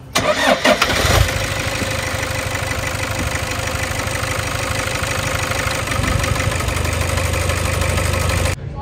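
A car engine cranks briefly and catches, then settles into a steady, loud idle close by, running after the cleaning of a faulty sensor and a loose timing sensor.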